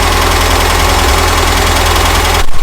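A VW Baja Bug engine idling at about 850 RPM, loud and close, with a steady low chugging pulse and mechanical rattle that runs alone until it cuts off abruptly near the end.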